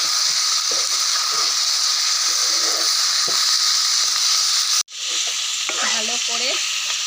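Duck meat is stir-fried with lemon leaves in a pan, a loud, steady hiss and sizzle with scraping stirs. It breaks off abruptly partway through, then resumes with a few faint tonal squeaks over the frying.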